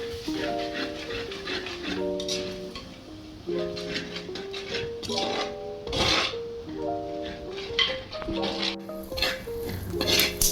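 Chicken perattu masala being stirred in a pan for a Kerala-style dish, with rhythmic scraping strokes and a light sizzle under steady background music.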